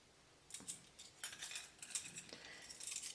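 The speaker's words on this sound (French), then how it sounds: "si vous avez ces cuillères comme ça, ces cuillères inox" Stainless steel measuring spoons handled at a workbench while preparing a cuticle gel, giving light, scattered metallic clinks and jingles, faint and close, with no talking.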